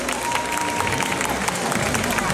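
A crowd at a lolita fashion contest in São Paulo claps steadily in sustained, dense applause, with scattered voices and chatter mixed through it.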